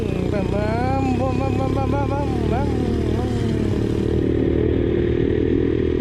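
A small 50cc KXD motorcycle engine drones steadily up close, its pitch wavering as it rides along, with a voice speaking over the engine noise.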